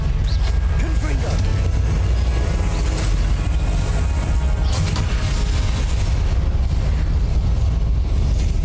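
Blasting spell explosion in a Harry Potter video game: a continuous loud, rumbling boom with crashing debris that fills the whole stretch, with a voice faintly mixed in.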